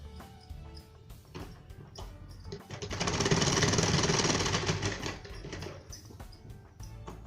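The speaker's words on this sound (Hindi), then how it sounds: "यहाँ पर हम एक फिटिंग की बैठने वाली सिलाई लगाएंगे" An electric sewing machine runs a continuous stitching burst along the fabric edges of a blouse, a close rapid mechanical rattle swelling loud for a few seconds amid quieter handling sounds before and after.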